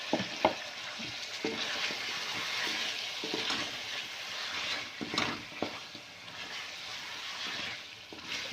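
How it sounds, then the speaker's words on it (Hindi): Diced potatoes sizzle and fry in hot masala for a pea-and-potato shorba curry, with steady crackling and the scrape of a spoon stirring the pan, all close and continuous without any talk. "अब मैं इसमें सबसे पहले डालूँगी आलू"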